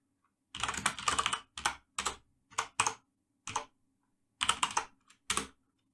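Computer keyboard keys clack in quick bursts as a command is typed into a Linux SSH terminal, with short pauses between clusters of keystrokes, close and clear against silence.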